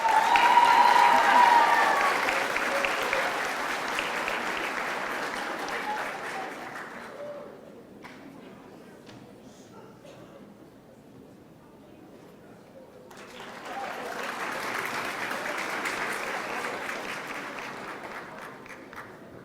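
A graduation audience applauds loudly and steadily, the clapping dies down to near quiet midway, then a fresh round of applause rises again, with speech mixed in.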